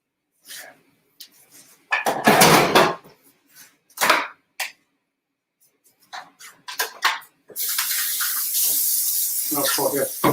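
Water runs from a kitchen tap for hand washing during cooking, a steady splashing rush that starts after a few scattered knocks and clatters. A brief voice may be heard early on.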